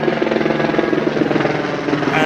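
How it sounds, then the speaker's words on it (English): A helicopter flies close overhead toward the London heliport, its rotor thumping in a loud, fast, even pulse over a broad engine roar for the whole moment. "according to Ray, this helicopter is going to land at the London heliport"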